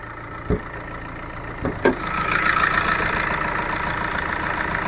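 A car engine idles with the bonnet open, giving a steady mid-pitched hum after two short knocks or taps near the start.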